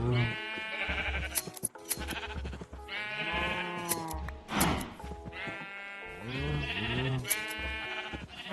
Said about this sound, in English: So we need to shear the sheep.